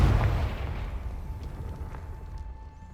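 Confringo, a fiery blast spell in the Hogwarts Legacy video game, goes off as one deep boom right at the start, then trails into a low rumbling decay that fades over a few seconds.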